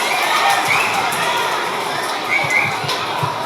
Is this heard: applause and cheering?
yes